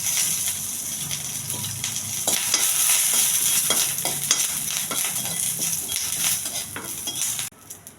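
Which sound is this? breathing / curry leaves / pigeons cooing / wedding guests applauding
curry leaves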